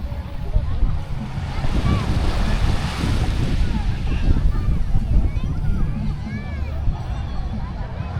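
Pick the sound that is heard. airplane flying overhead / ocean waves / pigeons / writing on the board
ocean waves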